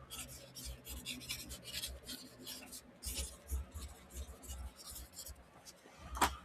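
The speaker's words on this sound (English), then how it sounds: "Let me get a pen and write that down" Pencil scratching across paper during a painting livestream, a run of quick rasping strokes in uneven bursts, close and fairly quiet, with a few louder scrapes and brief pauses between words being written.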